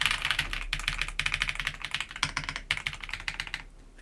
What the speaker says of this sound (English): There's the mechanical keyboard.